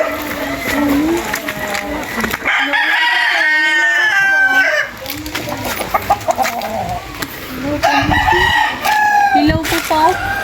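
Chickens cluck and a rooster crows loudly nearby, repeated crowing calls over busy farmyard clucking, with people talking in the background, on a mountain farm in Carmen, Cebu.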